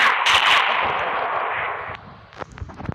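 Gunfire in a video game: a loud burst and roaring blast up front, then several sharp snapping shots toward the end.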